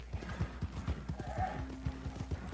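In Red Dead Redemption 2, a horse gallops with rapid rhythmic hoofbeats, close and loud, while a drawn-out neigh rises in the middle of the run.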